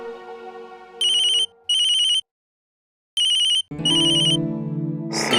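A phone rings with a bright electronic ringtone, sounding in several short repeated bursts separated by gaps, clear and close, over and between a melodic music score.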